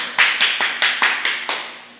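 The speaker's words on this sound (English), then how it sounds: "Might ask them back to just clap for the people." Several students in a classroom clap together in a steady series of about seven sharp, even claps, close and fairly loud, with no talking over them.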